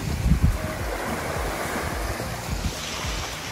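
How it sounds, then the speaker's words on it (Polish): Surf washes onto an empty beach on Koh Mak island, Thailand, in a steady broad roar with gusts of wind buffeting the microphone. "To jest plaża, która jest bardzo blisko naszego domku."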